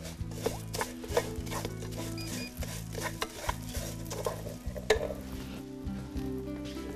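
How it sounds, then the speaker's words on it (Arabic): Vermicelli toasting in a hot pan with oil while being stirred, a steady close sizzle with repeated scraping strokes of a utensil against the pan. "احنا الشعريه وهي قاعده بتتحمص مع الوقت"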